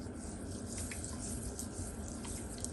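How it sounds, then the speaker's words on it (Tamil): Water runs and trickles over small millet grains in a bowl, a steady quiet pouring with light splashing throughout, no talk. "கொஞ்சம் முழுகிற அளவு தண்ணி"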